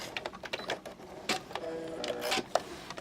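A sewing machine quilts through the layers of a potholder, its needle running in a steady, close mechanical whir with faint clicks, sounding alone at moderate volume.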